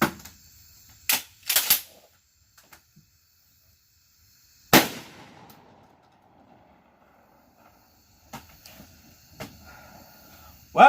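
A Tristar Raptor ATAC semi-automatic 12 gauge shotgun firing military double-aught buckshot outdoors: loud sharp blasts, a quick pair early, then single shots spaced seconds apart with quiet gaps and faint clinks between them.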